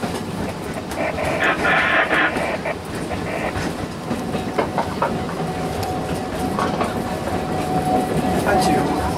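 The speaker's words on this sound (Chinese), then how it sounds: "半球车站，三次车准备进站了。" An Alishan Forest Railway train pulls into a station on its first run after service resumed, its wheels clacking in a continuous rumble with faint voices in the background.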